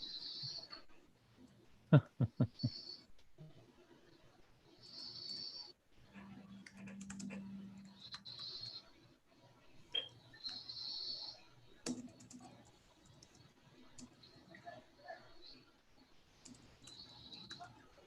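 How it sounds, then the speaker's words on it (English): Laptop keyboard typing in a quiet room, scattered bursts of soft key clicks with pauses between, close and faint, occasional louder taps. "I'm gonna type Explore Scientific"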